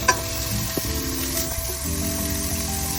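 Chili powder sizzles in hot oil in a pan for Korean spicy chicken soup (dakgaejang). A steady, close frying hiss runs throughout, with a few small pops and no talk.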